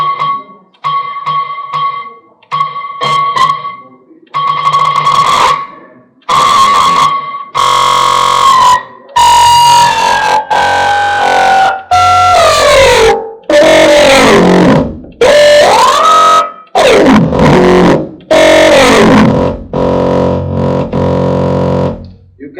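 An Elektron synthesizer plays a repeated retriggered tone in loud, choppy bursts, the stutter rate and pitch shifting drastically from note to note as the retrig time is changed, with short silences between phrases and no talking.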